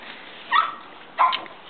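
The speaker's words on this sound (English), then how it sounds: "That's a happy puppy." A happy puppy gives two short, high whimpers about half a second apart, close and clear against a quiet background with no talking.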